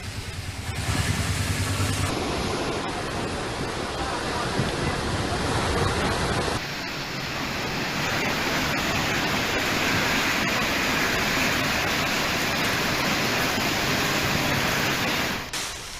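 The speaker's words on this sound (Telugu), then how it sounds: "సారంగాపూర్, రాయకల్ మండలాల్లో వాగులు, వంకలు పొంగి పొర్లుతున్నాయి." Flooded streams overflow after torrential rain in Jagtial, a loud, unbroken rushing roar of fast water that stays dense and steady throughout.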